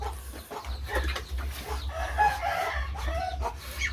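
Chickens on a rural Thai farm cluck and murmur close by in short overlapping bursts over a low steady hum, with faint rural background.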